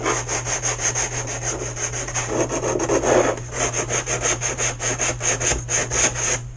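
Sanding varnish off a chamfered wooden edge of a kit build, rapid rhythmic back-and-forth rubbing strokes, close and steady over a low electrical hum.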